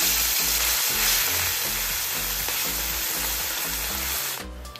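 Fish pieces frying in hot oil in a wok, a loud, steady sizzle that continues without a break for several seconds and then drops off sharply at the very end, with no voices.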